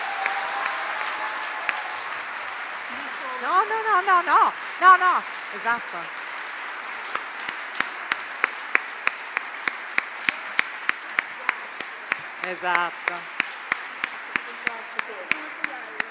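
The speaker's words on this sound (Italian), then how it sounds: "un ultimo applauso" A festival audience applauds warmly, the clapping swelling and then thinning into scattered individual claps, with a few spoken words from people on stage mixed in.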